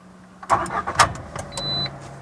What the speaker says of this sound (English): Now, listen to the sound of engine.